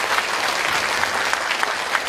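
An audience at a special lecture at Chonnam National University claps for Cho Kuk and Professor Park Go-eun, a steady, dense burst of applause with a few sharper claps standing out.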